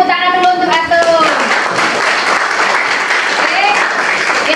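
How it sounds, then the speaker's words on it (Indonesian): Classroom applause for a student who answered correctly, a dense wash of clapping filling the room for several seconds, with a voice talking over the start. "beri tepuk tangan dulu untuk Atun."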